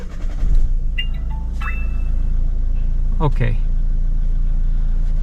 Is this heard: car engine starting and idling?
yes